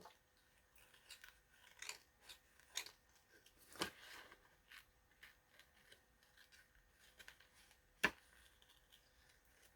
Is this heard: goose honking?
no